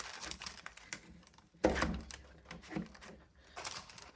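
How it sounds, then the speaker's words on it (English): A big cleaver chops through a slab of frozen blueberry yogurt bark, with a loud cracking thunk near the middle and a few smaller cracks and knocks around it, close by. "I'm just going to use my big cleaver here. Cut it like that."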